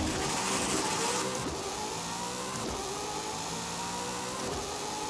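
Drag car engine in Forza Horizon 5 revving hard and continuously, loud and harshly distorted, with a steady roar that shifts pitch slightly throughout.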